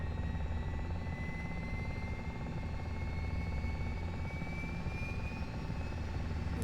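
A simulated UH-60 helicopter in Flight Simulator 2020 with its second engine trying to start: a steady turbine drone under a thin whine that slowly climbs in pitch, continuous and fairly close, with no talking.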